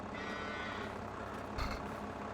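Cattle in the Farming Simulator 22 video game give a low moo, faint and distant, beneath a steady hum of farm machinery.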